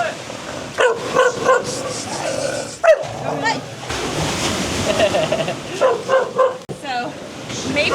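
Several street dogs bark and yip in sharp, overlapping bursts close by, with voices shouting among them and a rushing background like surf or traffic.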